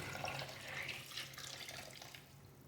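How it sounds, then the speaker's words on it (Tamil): Water poured from a glass into soaked jeera samba rice for biryani, a steady close splashing pour lasting the whole stretch with no talk. "அஞ்சு கிளாஸ் தண்ணியை நான் இதில் ஆட் பண்ணிக்கிறேன்"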